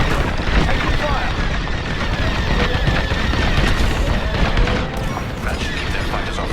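Rapid starfighter blaster fire and explosions crackle through a dense, continuous space-battle din in the Star Wars: Squadrons video game, loud and sustained throughout, with voices talking over it.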